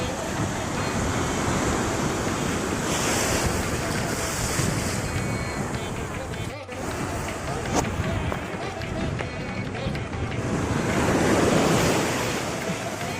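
Ocean waves wash steadily onto the seashore near a temple in Tiruchendur, a continuous broad roar that swells and fades, with heavy wind buffeting the microphone throughout.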